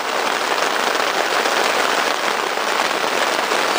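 Heavy rain pours steadily onto a rocky canoe-trip campsite, a dense, even hiss of countless drops that holds constant and close without a break.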